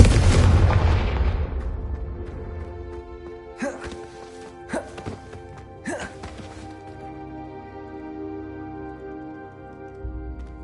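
Confringo blasting curse from Hogwarts Legacy: one big booming explosion opens loudly and fades over a couple of seconds, followed by three smaller sharp bursts over a soft, sustained musical backdrop.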